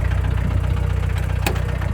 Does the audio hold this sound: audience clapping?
no